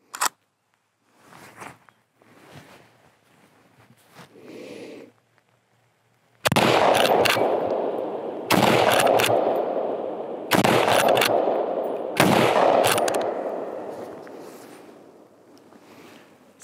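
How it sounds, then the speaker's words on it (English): Four loud, close rapid-fire rifle shots from a Beretta BRX1 in .243, each a sharp crack followed by a long booming echo, spaced about two seconds apart after quieter handling noises. "I just shot that BRX1 Beretta, also rapid fire"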